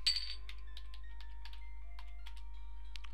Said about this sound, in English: Sorry, I was fiddling with a bottle cap there.